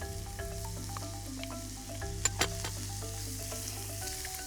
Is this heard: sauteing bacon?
yes